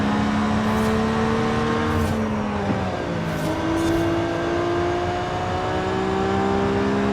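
A McLaren 720 GTR engine races in Forza Horizon 5, a steady, loud car-engine drone with rising and falling pitch as it accelerates through gears, with faint passing whooshes and no talking.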